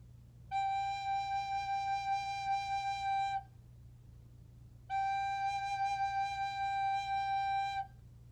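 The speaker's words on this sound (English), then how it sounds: "take your instrument and cover all 4 holes with your left hand and use that warm breath" Two long, steady recorder notes, played with all four left-hand holes covered, held for about three seconds each, clear and pure, separated by a short pause.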